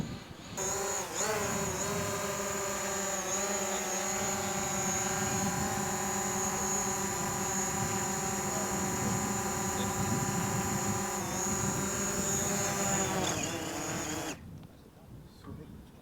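A quadcopter drone hovers and descends with a constant high buzzing whine of its propellers, fairly close and steady, with faint voices in the background before the rotors stop at the end.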